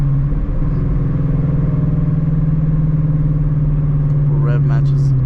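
A 2017 Shelby GT350 engine runs steady and loud during a night drive, with its rising rev during a rev-matching downshift coming near the end; a voice is heard over it.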